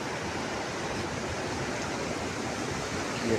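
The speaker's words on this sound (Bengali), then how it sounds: "দেখেন ওই দিক দিয়ে পানি ছেড়ে দিচ্ছে, এই দিক দিয়ে আসতেছে।" A dense, even rush of water pours out where a canal has been opened, a continuous close roar with no pauses and no voices.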